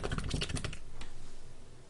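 Rapid clicking of keys on a computer keyboard, a quick burst of typing that slows and fades into quieter taps.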